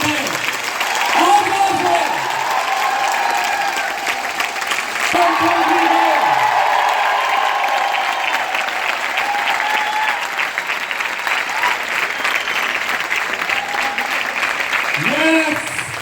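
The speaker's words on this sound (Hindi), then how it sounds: "एक बार जोरदार तालियां आपके लिए, आपके अप्लायंस के लिए, जोरदार तालियां।" Loud, sustained audience applause at a company's 19th anniversary event, a thick wall of clapping holding steady throughout while a voice briefly calls out over it a few times.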